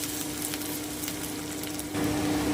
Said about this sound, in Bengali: এবারে আমি আদা আর কাঁচা লঙ্কাটা দিয়ে দিচ্ছি আমি একটু নেড়ে নিচ্ছি